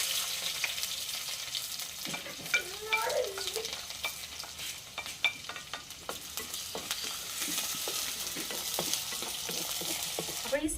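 Onions sizzle in oil while a spoon scrapes and clinks against the pan, giving a steady hiss broken by stirring knocks.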